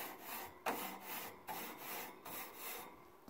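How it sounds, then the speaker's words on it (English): Brush scrubbing a charcoal grill grate outdoors, several quick back-and-forth scraping strokes with a sharp knock early on, close and moderately loud with no talking. "Give your grate a little cleaning."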